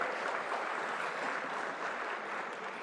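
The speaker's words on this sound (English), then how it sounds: "Please welcome him with a round of applause." Steady applause from a conference audience welcoming a newly appointed speaker at the World Hindu Economic Forum, a dense, continuous wash of clapping heard from a distance, without pauses.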